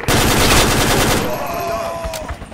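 Friendly machine-gun fire in Project Reality, a loud rapid rattling burst close by that fades into scattered shots and background combat noise.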